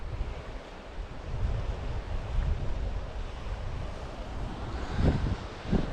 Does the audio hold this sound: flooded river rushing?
yes